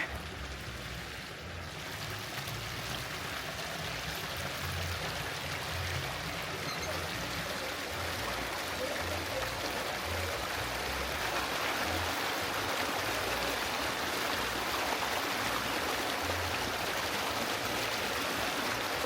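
Continuous rushing and gurgling of irrigation water flowing, steady and fairly close, growing slightly louder over time with no voices.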